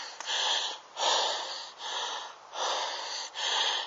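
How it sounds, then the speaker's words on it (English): Heavy, rhythmic breathing close to the mic, about five loud, raspy breaths in and out in a steady pattern, with no other sounds. "My heavy breathing"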